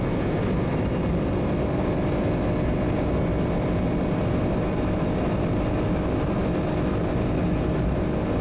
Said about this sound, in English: Going up a hill here, so the engine's revving a bit high.